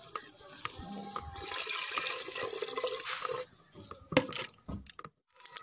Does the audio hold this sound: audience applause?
no